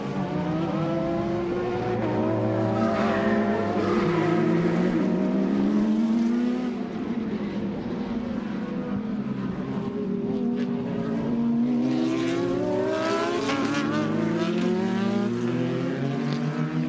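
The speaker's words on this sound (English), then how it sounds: "2 F3 cars side by side." Two Formula 3 racing cars, one a Ralt in Martini livery, running side by side on a circuit, their engines rising and falling in pitch as they pass, loud and continuous with no talking.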